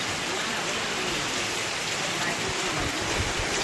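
Dense, loud downpour on a farm hisses continuously, rain drumming on surfaces close by with no letup.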